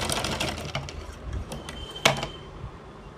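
A sewing machine runs a half-inch seam on a kurti in bursts of rapid mechanical stitching, with a sharp clack near the end and short pauses between runs.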